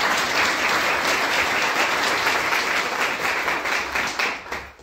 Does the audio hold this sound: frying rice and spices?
no